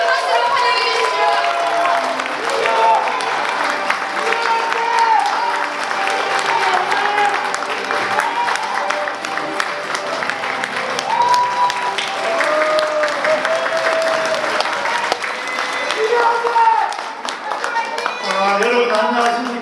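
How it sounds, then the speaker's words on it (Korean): A crowd at a political rally applauds loudly and steadily to welcome a speaker, dense clapping mixed with cheers, while an announcer's voice and music carry over it throughout. "여러분 큰 박수로 환영해 주십시오."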